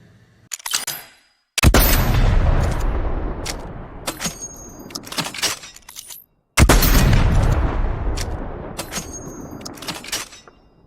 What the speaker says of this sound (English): But just listen to the sniper.